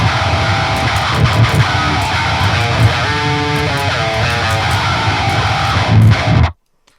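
Heavy metal guitar tone run through the Wavemind Distant Rod 1 plugin, a harsh, chainsaw-like distorted sound played steadily and loudly for about six seconds before cutting off to silence.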